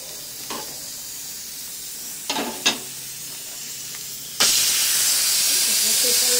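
A pressure cooker cooking dal khichuri vents steam through its whistle: after a few quiet clicks and knocks, a loud, steady rushing hiss bursts in midway and continues to the end.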